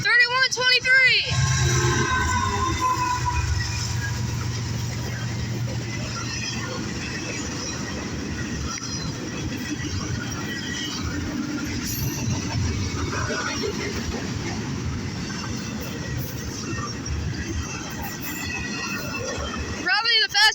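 A CSX freight train rushes past at high speed, a loud continuous roar of wheels and rail noise filling the whole stretch, with railcar rumble holding steady from start to finish.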